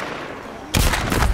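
Rapid gunfire bursts out suddenly in The Walking Dead: Saints, a loud crackling volley of several shots that continues to the end after a quiet start.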